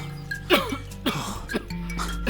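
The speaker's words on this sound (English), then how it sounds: "I've had this persistent cough for days now." Several short, harsh coughs or throat-clearing bursts spaced across a couple of seconds, fairly close, with no talking.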